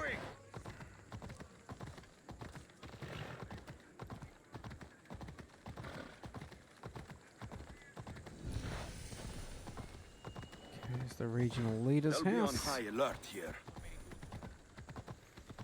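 Horse hooves in Assassin's Creed Odyssey clip-clopping at a steady trot through a town, a continuous rhythmic clatter under someone talking, followed by a whinny and snorting near the end.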